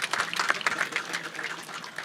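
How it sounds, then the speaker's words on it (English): Scattered audience applause at an outdoor park groundbreaking ceremony, a light, steady patter of hand claps lasting about two seconds at moderate volume. "That deserves a round of applause indeed."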